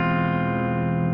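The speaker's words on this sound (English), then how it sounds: "The 2 thin strings without the tuning fudge will sound like this" Two thin guitar strings in standard tuning ring out together without any tuning compensation, giving a loud, steady, sustained dyad with dense harmonics for just over a second, alone with no talking.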